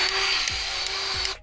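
Milwaukee cordless grease gun running in a steady motorized whine while greasing a John Deere 5085E tractor, with a couple of brief low thumps before it cuts off abruptly.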